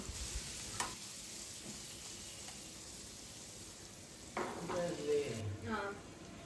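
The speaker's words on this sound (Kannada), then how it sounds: "ಕ್ಯೂಬಾಗಿ ಕಟ್ ಮಾಡ್ಕೊಂಡಿರುವಂತಹ ಪನ್ನೀರ್ ಇದೆಯಲ್ವ, ಸೊ ಅದನ್ನು ಹಾಕಿ ನಾನಿಲ್ಲಿ ಚೆನ್ನಾಗಿ ಫ್ರೈ ಮಾಡಿ ತಗೋತಾ ಇದ್ದೀನಿ" Paneer cubes fry in oil with masala powder in a home kitchen for hariyali pulao, a steady soft sizzle that gives way to louder stirring and scraping toward the end.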